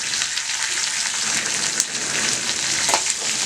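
Urad dal, cashews, curry leaves, ginger and green chillies sizzle steadily in hot oil, a dense continuous crackle with a couple of sharper pops, close and alone with no talk.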